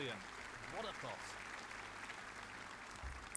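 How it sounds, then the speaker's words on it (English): Crowd applause in the Snooker 19 video game after a pot, a soft spread of clapping that carries on at a low, even level for several seconds with no voice over it. "Crowd seem to like that one."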